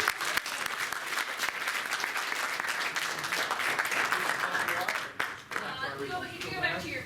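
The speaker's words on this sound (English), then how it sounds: "A round of applause for our" A convention crowd at the Rhode Island Comic Con QuickDraw 2019 claps steadily and loudly for about five seconds, then the applause breaks off and a voice starts talking.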